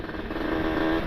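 Two-stroke motorcycle engine braking, a brief, fairly quiet buzzing engine note that holds steady with a slight rise and no talking.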